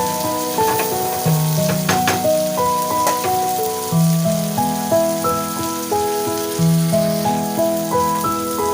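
Butter chicken frying in a pan over a high flame, a steady loud sizzle running throughout with soft stirring clinks, all under a continuous layer of background music.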